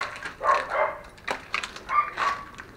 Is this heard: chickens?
no